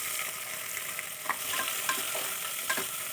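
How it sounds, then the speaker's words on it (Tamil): Chopped onions frying in oil in a pressure cooker while tomato rice is made, a steady close sizzle broken by occasional soft scrapes and stirring clinks. "இப்போ தேவையான அளவு நம்ம நறுக்கி வச்சு வெங்காயத்தை ஆட் பண்ணிக்கலாம்."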